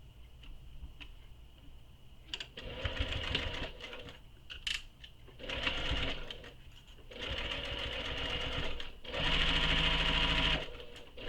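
Sewing machine stitching a handbag seam, with bursts of rapid mechanical whirring separated by short pauses, close and fairly loud, ticking lightly between runs.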